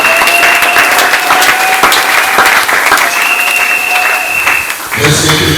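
A church congregation applauds and cheers in praise of God, dense continuous clapping filling the room at steady loudness, with a sustained tone ringing through and a brief dip near the end before the applause swells again.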